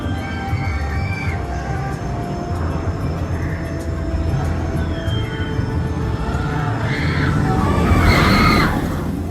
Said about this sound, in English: Oh, the little screams.